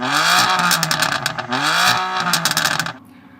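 A turbocharged BMW F80 M3 engine revs loudly and up close in repeated rising surges, with crackling pops between them, before cutting off abruptly near the end.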